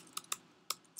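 A few quick clicks of typing on a computer keyboard, four sharp keystrokes spaced unevenly and heard close and quiet with no talking.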